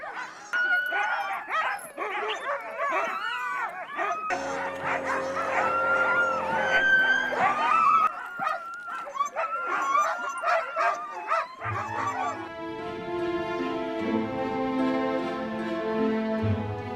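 Sled dogs bark, yip and whimper close by in a chorus of overlapping cries, with howling tones joining toward the end.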